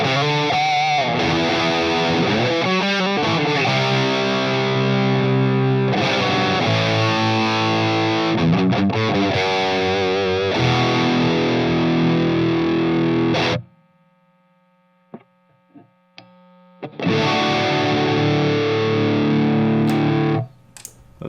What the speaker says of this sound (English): So let's listen to that distortion, right?